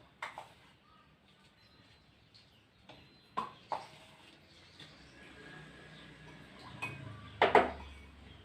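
Three spoonfuls of salt added to 100 ml of water in a glass, with a few sharp metal-on-glass clinks and taps separated by pauses, faint and close in a quiet room.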